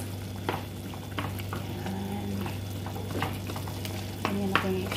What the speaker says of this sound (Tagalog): Pwede na natin siyang haluin.